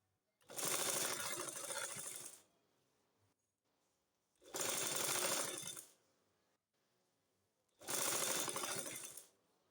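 A sewing machine stitches a pleated kuchi burqa, running in three steady bursts of about two seconds each, separated by short pauses, loud and close with no talk.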